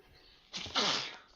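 One person sneezes indoors during a tabletop game session, a short sharp burst with a quick inhaled lead-in followed by the main expulsion, fairly close and clear against a quiet room.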